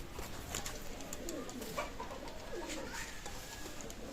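Rampuri pigeons coo softly and repeatedly in a quiet loft, low rolling calls that rise and fade over steady background hiss.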